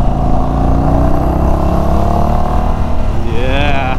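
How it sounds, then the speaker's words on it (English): A 2022 Indian Chief Bobber Dark Horse motorcycle with Indian pipes rumbles with a deep, throaty exhaust note, rising in pitch as it accelerates and holding a loud, close drone throughout. "what the Indian pipes have done is, they're not very loud, yeah, but they're very deep and throaty"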